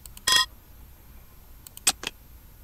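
Phone being handled in the Cry of Fear video game: a sharp electronic beep or click early on, then two brief tones close together later, over a quiet low hum, no talk.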